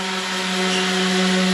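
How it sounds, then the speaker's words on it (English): A steady, continuous mechanical whine with a constant hum of a power sander running without pause on a boat hull. "And Connor and Roman They've been sanding like crazy over here"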